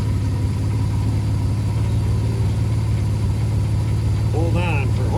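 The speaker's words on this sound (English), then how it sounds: "I'm going to try to use the starter one more time to see if we can't bump the engine over and free it up." A starter cranks the stuck engine of a 1958 Plymouth with a loud, steady, low rhythmic churning throughout. A voice briefly comes in near the end.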